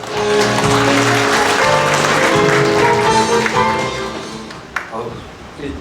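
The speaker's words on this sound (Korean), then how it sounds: "박수로 받아주시기 바라겠습니다" Audience at an urban development project briefing held in a wedding hall applauds to welcome a speaker; clapping rises and fills the hall, overlapping with amplified talk and music-like tones, then fades toward the end.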